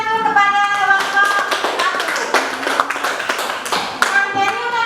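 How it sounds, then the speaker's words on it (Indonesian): Primary-school pupils in a classroom clap for a student group, brisk uneven hand claps close by, with a voice speaking over the clapping. "Silakan kasih tepuk tangan dulu kepada kelompok"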